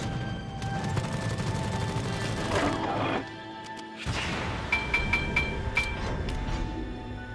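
Naval guns firing on an enemy warship in a video game, several loud booming salvos and crashing impacts in quick succession, followed by a short lull and a further run of sharp reports.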